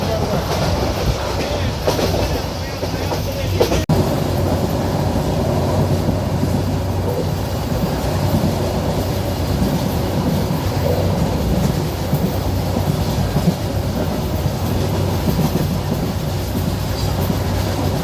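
Inside a moving passenger train on a trip to Sylhet, a loud continuous rumble fills the carriage, with steady rhythmic clickety-clack of wheels on rail joints throughout.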